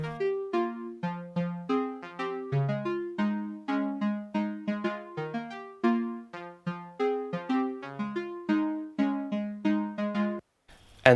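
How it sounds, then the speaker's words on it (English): Flute-like synth patch from a pop tune, playing a busy riff of short notes that swell and fade, alone and fairly loud, ending with a brief gap and a burst. "And then we've got sort of a flutish kind of sound."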